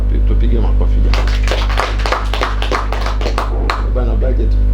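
An audience claps in bursts during an official gathering, with the loud, uneven applause rising and falling over a steady low hum, lasting a few seconds.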